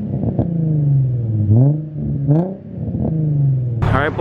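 An Infiniti G35 coupe with a Morodyne exhaust revs up and down in a few strong, close blips, its deep engine note rising and falling between pulls and ending in a sharp, rough burst.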